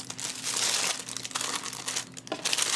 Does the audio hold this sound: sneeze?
no